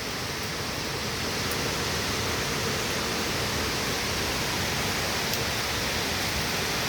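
Continuous heavy rain falling over flooded city streets in Dhaka, a steady dense hiss that stays even and loud throughout with no pauses and no voices.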